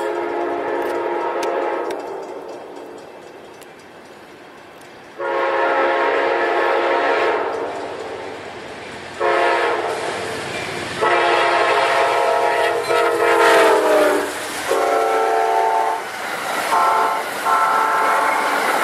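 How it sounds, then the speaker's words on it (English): Southbound Amtrak train 89 approaches with repeated loud horn blasts in long and short patterns, the chord sounding near and strong over a low rumble of the passing train. "Here comes Amtrak 89"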